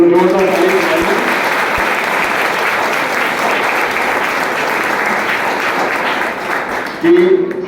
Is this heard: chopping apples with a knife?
no